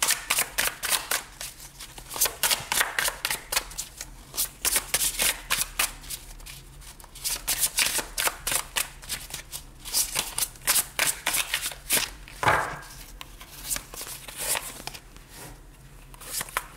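Tarot cards being shuffled by hand before a reading, a steady run of crisp riffling flutters with brief pauses between bursts, close and clear with no talking.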